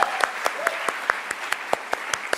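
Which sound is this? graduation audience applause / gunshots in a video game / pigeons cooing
graduation audience applause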